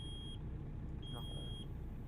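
Two steady high-pitched electronic beeps from a truck's low air pressure warning in American Truck Simulator, each lasting a fraction of a second, over a constant low engine rumble.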